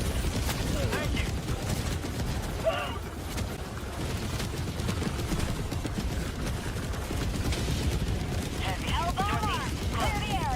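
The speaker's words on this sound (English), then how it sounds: "Orbital barrage incoming." Orbital barrage strikes in the video game Helldivers 2 pound continuously, a dense rumbling wall of overlapping blasts and crackling debris that fills the whole stretch with little letup.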